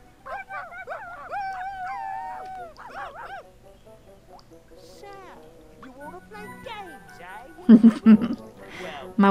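Dalmatian dogs in the 101 Dalmatians: Escape from DeVil Manor video game yip, whine and howl in wavering cries, with a loud burst of game noise near the end.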